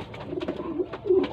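Pigeons in a breeding loft coo softly in a low, throaty, repeated rhythm, with a fuller coo swelling near the end, close and moderately loud with no talking.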